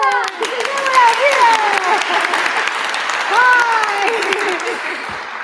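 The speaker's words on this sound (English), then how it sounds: "Let's have a clap!" A small choir audience claps together in a room, producing bright continuous clapping while several excited voices call out over it.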